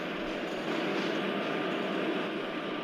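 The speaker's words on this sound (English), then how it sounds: "Let's slow down our train." Train simulator game with an Indian Railways WAP-4 electric locomotive hauling an express, easing down as it approaches Kadapa station: a steady, dense rumble of rolling rail noise, continuous and fairly loud throughout, with no talking.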